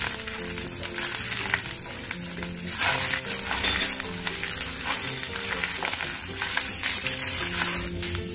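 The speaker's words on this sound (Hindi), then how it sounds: "उसमें हींग और करी लीव्स का चूरा डाल के मिक्स कर लेंगे" Asafoetida and curry leaf powder being stirred into hot oil in a frying pan for coconut rice, with continuous sizzling and light scraping and clinking from the stirring, close and moderately loud, no talk.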